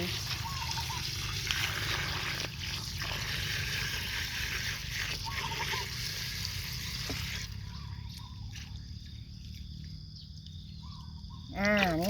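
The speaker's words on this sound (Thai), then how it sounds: "หลังจากนั้นเราเทน้ำเปล่าลงไป" Water pours and splashes steadily onto cow manure in a container for several seconds, with a sloshing, gurgling texture and a brief high chirp near the end.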